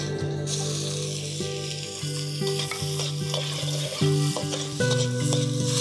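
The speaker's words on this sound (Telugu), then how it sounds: "టమాటాలు, ఉల్లిపాయలు వేగిపోయినాయి" Chopped tomatoes, onions and green chilies sizzling in hot oil in a pan, with steady frying hiss and occasional stirring scrapes and taps, close and alone.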